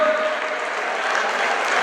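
A crowd gives steady, sustained applause at the grand opening of a Cape Verdean museum honoring the president of Cape Verde, a dense even clatter of many hands filling the room.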